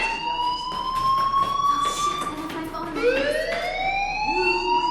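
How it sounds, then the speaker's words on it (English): A fire alarm rings inside a school in the video game Life Is Strange, loud and continuous, with sustained electronic tones that swoop and shift in pitch, and no talking. "do you hear that fire alarm? That means you should be outside."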